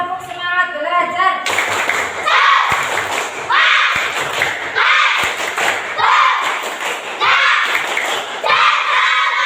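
A group of schoolchildren or class participants performs a rhythmic clapping chant, with bursts of patterned claps and thumps alternating with chanted voices in a repeating cycle, close and lively.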